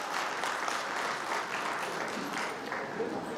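Enthusiastic applause from the crowd at a municipal council president's swearing-in ceremony welcoming a guest, dense continuous clapping at moderate distance, steady throughout.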